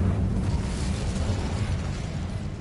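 A fire spell cast in a PlayStation 5 action game gives off a steady, loud whooshing roar of flame that keeps going evenly for a couple of seconds, with no voices over it.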